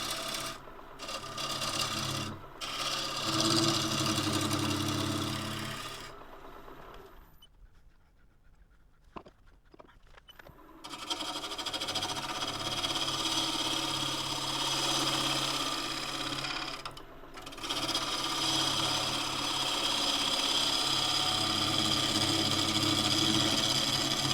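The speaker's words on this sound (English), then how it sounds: "I'm just doing a little face scrape trying to flatten that foot off" A scraper face-cuts the foot of a casuarina bowl spinning on a wood lathe, a steady rasping, grinding scrape over motor hum that drops away briefly mid-clip before resuming, close and continuous without talk.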